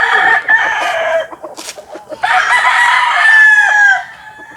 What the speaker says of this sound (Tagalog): Ito po yung mga manok nila dito.